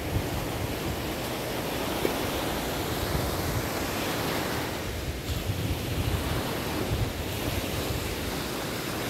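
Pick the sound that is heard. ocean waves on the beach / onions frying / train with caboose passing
ocean waves on the beach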